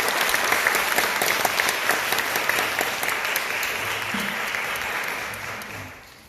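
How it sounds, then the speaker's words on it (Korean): Audience applause after a talk at the 2019 TrustVerse Insight Summit on blockchain and hybrid multi-cloud: dense, sustained clapping from a large crowd that holds steady for several seconds, then tapers off at the end. "한 박수 부탁드립니다."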